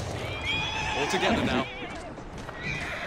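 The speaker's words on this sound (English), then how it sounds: "Who's a good horse?" A horse in Assassin's Creed Syndicate whinnies over game music and ambience, with clip-clopping hooves nearby while a voice speaks over it.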